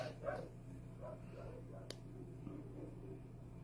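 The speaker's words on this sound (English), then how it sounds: "I hope you can hear all the lovely dogs barking." Two Great Pyrenees puppies barking outdoors in the distance, a series of faint, irregular barks and yips behind a steady low hum.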